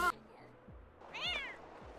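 A pet cat in The Sims 4 gives a single clear meow at mid-clip, with a shorter cry near the start and low game background sounds underneath.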